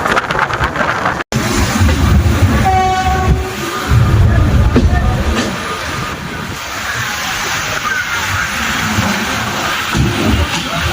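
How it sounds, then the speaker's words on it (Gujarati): A fast local train speeds past on the way to Girnar in Junagadh, its rumble and clatter loud and steady throughout, with a horn sounding briefly near the start. "ટ્રેન જો કેટલી ફાસ્ટ છે।"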